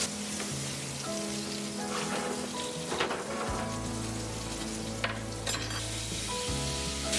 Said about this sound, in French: on arrose avec le beurre de cuisson